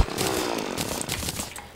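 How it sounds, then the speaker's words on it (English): A chainsaw cuts a tree in the video game Terraria, a short continuous buzzing whine of the running saw, loud and close, heard alone. "I'm using a chainsaw"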